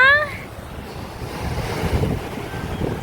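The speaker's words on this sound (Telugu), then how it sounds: "అయ్యో ఇంత పెద్ద పెద్ద అలలు." Ocean surf at a beach in Kanyakumari, Tamil Nadu, with large waves rumbling and washing steadily and wind buffeting the microphone; a brief voice sounds at the very start.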